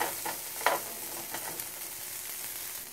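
Turmeric rice cooks in a pan with a soft, faint sizzle, broken by a few light scraping stirs.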